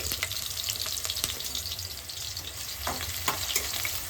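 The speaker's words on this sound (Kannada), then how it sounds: "ಇವಾಗ ಆಯಿಲ್ ಎಲ್ಲ ಬಿಸಿ ಆಗಿದೆ. So next onion." Chopped onion hits hot oil for a special noodles recipe, giving a continuous close sizzle with scattered crackles and occasional stirring scrapes, no voices.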